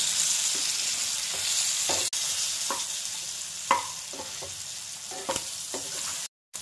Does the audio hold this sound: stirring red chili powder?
yes